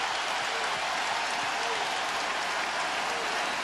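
A basketball arena crowd at a 2004 Rockets versus Lakers playoff game applauds in a dense, continuous wash of clapping and cheering that holds steady and loud throughout.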